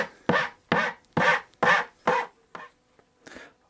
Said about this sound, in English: just take a file and I'm going to reproduce the same profile that was there